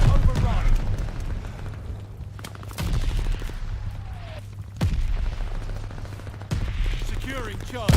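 Mortar rounds and gunfire in Call of Duty Vanguard multiplayer, with several loud booming impacts spaced a couple of seconds apart over steady rattling weapon fire and battlefield noise.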